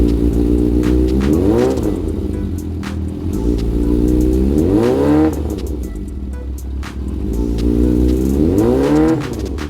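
Yamaha XJR400 motorcycle engine revving up and settling back several times in a repeating pattern, loud and close, with no talk.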